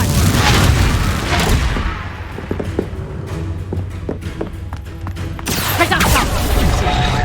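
A Confringo blasting spell explodes in the Hogwarts Legacy video game, a loud booming blast followed by crackling debris and scattered impacts, with a second surge of rumbling noise near the end.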